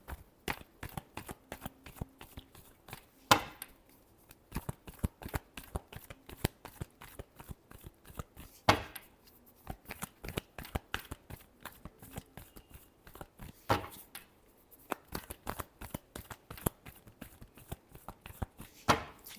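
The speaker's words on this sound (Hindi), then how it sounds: "Last shuffle." A deck of tarot cards is shuffled over and over, giving a steady run of crisp riffling clicks close to the microphone, with a few louder snaps.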